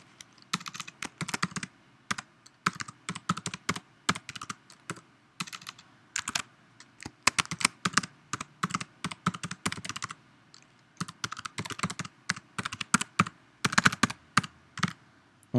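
Bursts of quick keystrokes on a computer keyboard as a password is entered on a Mac, close and crisp, arriving in uneven clusters with short pauses between them and no talking.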